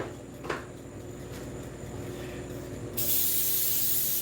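A can of non-stick cooking spray hisses in one steady loud burst near the end, after a faint quiet stretch with a brief knock.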